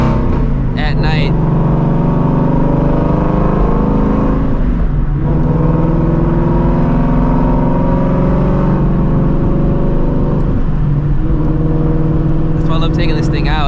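A Shelby GT350 engine drones loud and close while driving through city streets at night, a steady low rumble with shifting tones, under intermittent talk from people inside.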